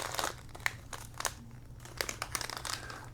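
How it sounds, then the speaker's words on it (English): Miniso Disney Donald Duck figure packaging being ripped open, a dense run of close crinkling and crunching plastic and foil over about three seconds, with sharp tearing bursts and no talk. "So let's go ahead and rip this open."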